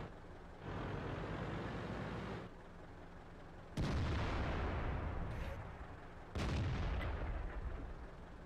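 Artillery shells in World of Tanks land in heavy booming blasts, each followed by a long rumbling roar, with a steady low engine drone running underneath.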